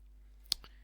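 A single crisp computer mouse click sounds close and quiet against faint background hum, followed by a softer second tick.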